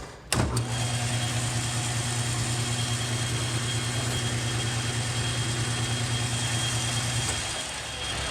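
A lathe spins steadily while a polish is lightly applied to a Jaguar E-Type engine cam cover, a loud continuous hum with a low tonal drone that starts abruptly and holds evenly for about seven seconds before winding down.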